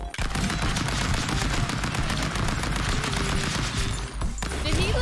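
Rapid bursts of gunfire from the Stick Fight video game, dense and continuous under a busy mix of game effects for the whole stretch.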